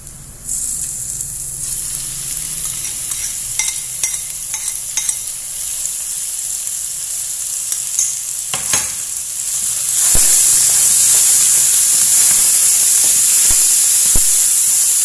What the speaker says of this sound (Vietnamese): bây giờ mình sẽ cho cái phần thịt băm vào nhé